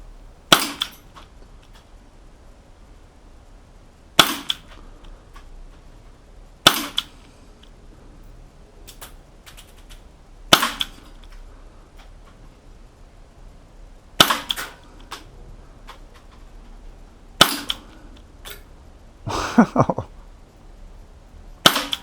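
A KWC Jericho 941 CO2 airsoft pistol fires single shots, seven or eight sharp cracks spaced a few seconds apart, with faint handling noise and target hits between them.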